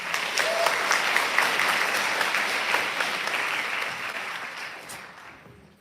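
An audience applauds steadily after a dance performance at a live evening program, a full, even burst of clapping that stays strong before fading away toward the end.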